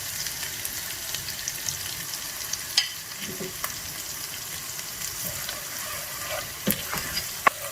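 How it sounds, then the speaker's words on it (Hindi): Turmeric, red chili and salt fry in a pan over low heat, a soft continuous sizzle with occasional sharp pops and spoon taps against the pan; no speech. "डाल के थोड़ा सा पहले हल्दी को फ्राई करेंगे ताकि वो कच्चा ना रहे।"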